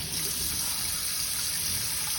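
Hot water runs steadily from a tap while dentures are scrubbed with a denture brush, a close, continuous gushing stream with no speech over it.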